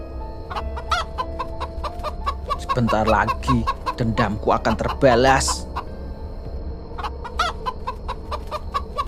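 Repeated chicken clucks from an animated horror film, sharp and close, come in bursts before and after a stretch where a voice speaks over them.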